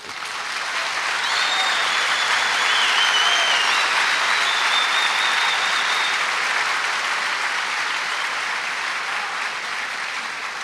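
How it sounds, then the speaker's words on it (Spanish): A panel audience claps steadily and loudly, a dense sustained applause filling the room for about eleven seconds without a break. "Están aplaudiendo mucho."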